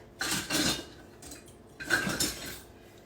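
A metal whisk beats batter studded with dried cranberries in a bowl, giving two short bursts of clinking, scraping strokes against the sides with a pause between, close and moderately loud.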